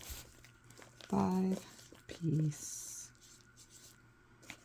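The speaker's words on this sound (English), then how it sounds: "So down here I'll write 5-piece" A pen writing a label by hand, two short scratchy strokes close to the mic, with a quiet pause between them and a brief faint rustle afterward.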